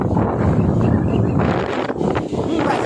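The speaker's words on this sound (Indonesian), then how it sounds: "Angin putih beliung guys." Strong gusty wind buffets the microphone at a beach during a storm, a loud, continuous low roar that swells and dips across the whole stretch.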